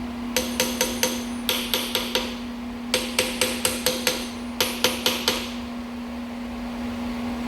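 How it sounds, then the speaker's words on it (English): Quick bursts of metallic tapping, a small hammer striking a GMC Yukon Denali steering gearbox in groups of four or five ringing hits, over a steady electrical hum. "And get my little hammer."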